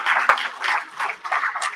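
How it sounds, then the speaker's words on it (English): A town hall meeting audience applauds presenters, dense clapping from a crowd heard close and fairly loud through a short burst. "Let's give our presenters a round of applause."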